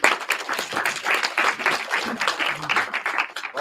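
A big round of applause at a tech startup demo night in Cornwall, loud and close, with many hands clapping in a dense, uneven patter that stays strong throughout, alone without talk.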